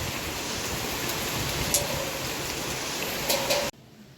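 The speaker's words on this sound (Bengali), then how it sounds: "দেখেন খুব জুড়ে বৃষ্টি" Heavy rain falling, a dense, continuous hiss of steady downpour with a couple of faint knocks, cutting off abruptly near the end.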